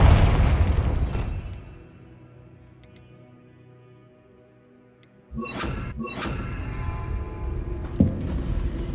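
A Confringo fire spell bursts in Hogwarts Legacy with a loud opening boom that fades into a quiet tail, then a second sharp crackling impact a few seconds later followed by rumbling debris and another thump.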